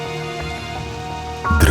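Heavy rain falls as a sound effect in a Russian horror story: a dense, steady wash of rainfall with faint tonal background music, then a louder crash or burst at the very end.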